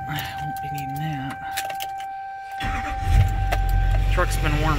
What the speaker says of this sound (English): So, I'm going to fire up and hopefully not lose tools in the engine.